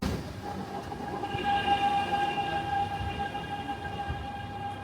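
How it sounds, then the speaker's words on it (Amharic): A fast electric airport-to-city express train in Oslo in winter runs with a steady rumble and a high whining tone from the motors, fairly close, no voices. "እንደምታዩት ፈጣኑ የከተማ ባቡር ነው። ኤክስፕረስ ይባላል።"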